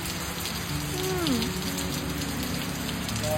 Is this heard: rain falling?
yes